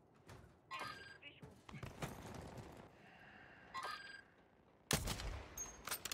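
Gunfire in the battle royale shooter Warzone: several sharp bursts and rapid volleys of shots with thuds between them, the loudest burst near the end, over a steady busy game background.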